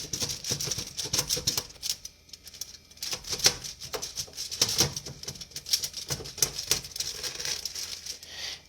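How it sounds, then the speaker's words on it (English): A knife cuts down the center of a spaghetti squash with a run of close, dense clicks and crunches in irregular bursts, briefly easing off partway through before resuming, with no talk. "Just take your knife and cut as long as you need to cut to get it right down the center"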